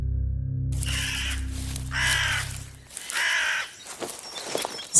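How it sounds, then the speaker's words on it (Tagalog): Crows caw in an audio drama as the aswang's pet birds: three or four harsh, evenly spaced calls, fairly close and loud, over a low droning background that fades partway through. "Ang mga walang hiyang ibon na alaga ng mga aswang."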